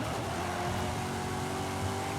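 A car engine drones steadily under the throttle, a faint, even hum with no breaks or distinct gear changes.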